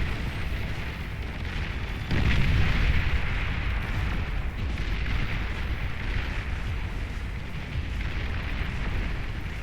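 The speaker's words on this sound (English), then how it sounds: "What a tremendous bomb." A massive bomb explosion in the strategy game Beyond All Reason, a deep sustained rumble that swells and stays loud with crackling blasts of artillery-like fire layered through it, no talk.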